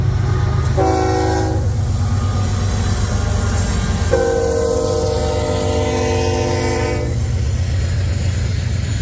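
A Norfolk Southern freight train rumbles steadily nearby as it passes in Lindale, Georgia, with two long blasts of its horn sounding over the continuous rolling noise.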